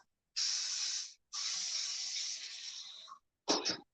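Cooking spray hisses from an aerosol can onto a non-stick pan in a home kitchen, two long close bursts of airy spray followed by a short clatter.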